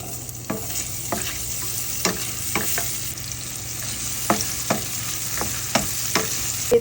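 Spicy pork ribs cooking in a pan, with a continuous close sizzle and repeated sharp scraping clicks of a utensil stirring at irregular intervals; no one speaks.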